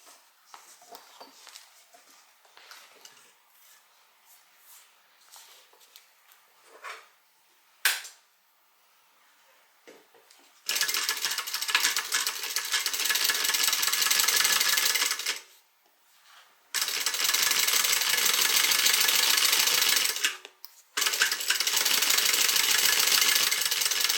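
A sewing machine stitching through canvas for a tote bag, with rapid mechanical chattering bursts in several long runs separated by short pauses, preceded by quieter handling clicks, close and loud.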